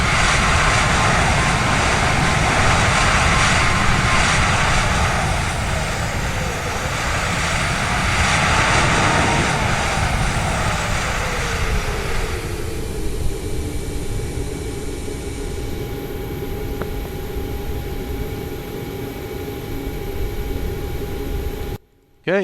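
A sustained, loud jet roar from the Boeing 737 MAX engines in reverse thrust in Microsoft Flight Simulator, gradually winding down with a falling whine and thinner hum before cutting off abruptly at the end.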